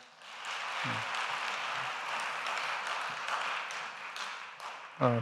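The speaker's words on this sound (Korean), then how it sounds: "다시 한번 뜨거운 박수 부탁드립니다." A chapel audience at a seminary service applauds warmly, a sustained crackle of many hands near and far, with brief voice sounds rising at the very end.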